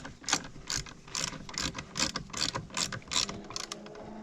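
Hand ratchet snugging down a part during A/C compressor work on a Ford 7.3 Powerstroke, a close, steady series of about ten crisp clicking pawl strokes in an even rhythm with no talk.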